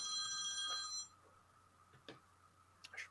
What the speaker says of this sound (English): I should probably put my phone on silent.